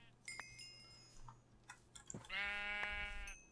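A single sheep in the Minecraft video game lets out a clear, wavering bleat that lasts over a second, over faint keyboard clicks and quiet background tones.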